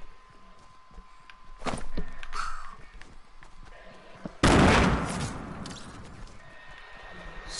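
Video game gunfire with a few scattered shots, then a loud, sudden burst of rapid fire or an explosion midway that fades out, in a multiplayer match with an SMG and grenades.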